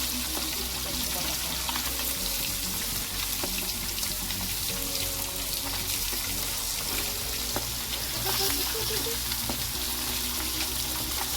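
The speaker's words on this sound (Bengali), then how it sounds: "একটু তেল উল্টে দিলাম হালকা করে ভেজে নেব" Mixed wetland fish frying in oil, a steady, close, crackling sizzle with scattered pops and occasional soft stirring knocks throughout, no one speaking.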